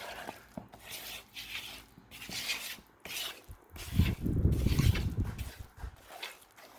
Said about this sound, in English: Make sure you scrape along the bottom.